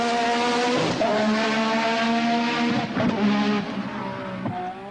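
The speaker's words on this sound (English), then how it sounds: "Cosworth have produced an engine with full race boost, and the vicious power induces wheel spin on the wet surface." Cosworth turbocharged Formula One engine at full race boost, wheel spinning on a wet track: a loud, close, rasping high-pitched roar that rises and drops in repeated surges as revs climb and fall.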